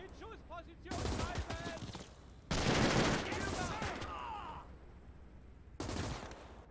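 Bursts of rifle and machine-gun fire in a WW2 video game mod, heavy volleys coming in waves with shouted voices and chatter mixed between and over the shots.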